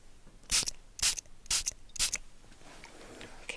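Strawberry icing perfume is sprayed from a bottle in four quick, crisp hissing bursts, evenly spaced about half a second apart and close to the listener, followed by quiet.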